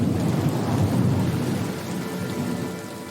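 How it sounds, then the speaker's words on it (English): Torrential tropical downpour with thunder on a South Pacific island, a dense, loud roar of heavy rain hammering surfaces with a deep rumble of thunder underneath, steady throughout with no voices. "That is a hell of a downpour."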